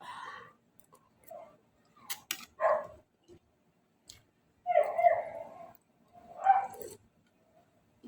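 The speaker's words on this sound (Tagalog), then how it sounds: "Ingay aso kasi may taong dumaan." A few dog barks come from somewhere nearby at a passerby, spaced apart in short bursts with quiet gaps between them.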